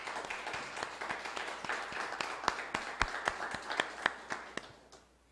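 At a Catholic prayer group gathering in Limeira, a church congregation applauds with sparse, distinct claps that fall into a loose rhythmic beat before thinning out and fading, all fairly quiet and somewhat distant.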